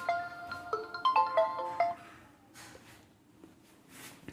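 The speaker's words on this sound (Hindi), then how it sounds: "फोन आ रहा" A phone ringtone plays a bright electronic melody of short stepped notes for about two seconds during a hydraulics class, then stops, leaving a quiet room hum.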